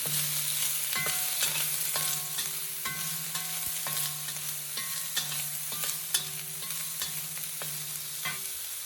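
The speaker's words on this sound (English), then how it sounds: "as soon as it's fragrant, I'm going to add my blanched broccoli" Ginger and blanched broccoli stir-frying in a pan, a soft steady sizzle broken by regular scraping and clinking strokes of a utensil against the pan, close but fairly quiet.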